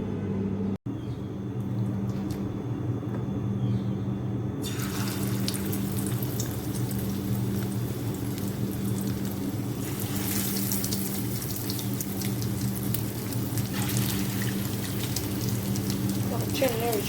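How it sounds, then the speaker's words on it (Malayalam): Chicken pakoda fries in hot oil, a steady close hiss and crackle that holds throughout, with a short sharp click near the start and a brief stretch of louder sizzling later. "നമുക്കിത് ഫ്രൈ ചെയ്യാം."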